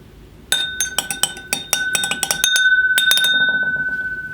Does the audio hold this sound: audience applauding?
no